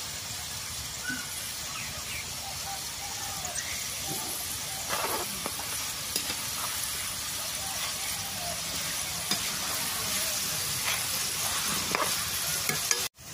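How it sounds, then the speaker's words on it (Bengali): Chickpeas fry in a hot pan with a steady, fairly soft sizzling hiss and occasional scrapes and light clinks from stirring, running without speech until the sound cuts off abruptly near the end. "বুটটি ভাজা হয়ে গেছে, এখন আমি উঠিয়ে নেব।"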